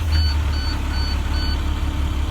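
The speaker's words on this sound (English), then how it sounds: "and then I turn on the engine." A school bus engine idles steadily after starting, a low constant rumble close by with a few faint high beeps from the dashboard over it.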